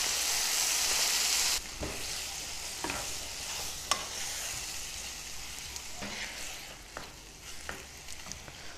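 Masala of ginger garlic paste and tomatoes cooking down in a pan for dhaba-style matar paneer, a soft continuous sizzle with occasional spoon scrapes and taps, louder hiss at the very start.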